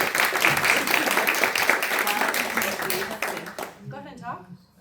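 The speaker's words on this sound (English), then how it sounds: "Clap for Beth." An audience at an indoor meeting applauds with dense, sustained clapping that fades out after about four seconds. A few voices follow in the quiet room.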